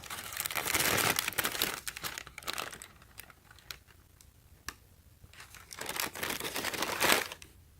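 Tissue paper crinkles and rustles while FILA basketball shoes are unboxed, loud, close bursts of crumpling at the start and end with softer scattered crackles between.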